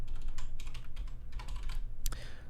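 Rapid clattering keystrokes on a computer keyboard while code is written, continuous close typing with irregular bursts and a sharper key click near the end, no talking.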